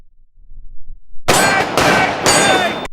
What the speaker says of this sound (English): just 3 shots from Kitchen Gun and it sparkles like new